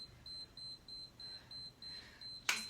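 An interval workout timer beeps in a regular run of short tones about every quarter second, fairly faint, then ends with a sharper louder blip.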